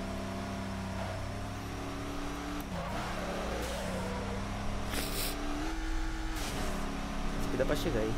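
A car engine revs and drones continuously in the racing game Midnight Club 3 DUB Edition Remix, its pitch rising and dipping through cornering and shifts while someone talks over it.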